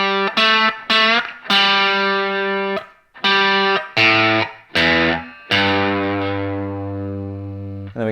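A distorted electric guitar plays a phrase, a series of loud, punchy notes with short gaps between them, ending in a long sustained note that slowly fades, with no talking.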